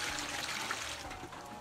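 Water poured into a cooking pot for crabs, a faint continuous splashing trickle that stays fairly even for a couple of seconds.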